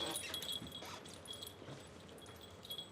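Faint, soft whimpers from a dog come in short bursts amid quiet background noise, with no talking over them.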